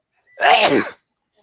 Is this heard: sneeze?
yes